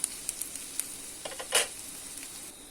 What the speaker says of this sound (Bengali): রসুনগুলো নামিয়ে ফেলছি, এখন আমি পেঁয়াজটা হালকা আঁচে ভেজে নেব।